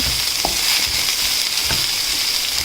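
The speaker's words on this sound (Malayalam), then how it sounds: "വെജിറ്റബിൾസ് ഇട്ട് കൊടുത്തതിന് ശേഷം ഇതുപോലെ ജസ്റ്റ് വഴറ്റുക" Carrot, onion, cabbage and green chili sautéing for vermicelli upma, a steady loud sizzle filling the clip with a few soft spatula scrapes and stirs across it, no voices.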